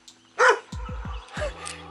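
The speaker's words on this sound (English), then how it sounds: "Beware of dog." A dog barks a few times nearby, sharp yips and woofs in quick succession, with outdoor background noise.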